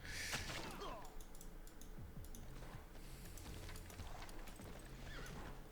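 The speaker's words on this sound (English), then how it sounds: "So many horses coming towards the city of Nodwengu" A mass of horses galloping toward a city in a real-time strategy game, a steady rumbling clatter of hooves with occasional whinnies and interface clicks, no talking.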